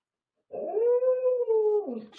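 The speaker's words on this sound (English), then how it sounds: "The dog's howling." A single dog's howl rising and holding one clean sustained tone for over a second before dropping away, close and alone against silence, in the game Baldur's Gate.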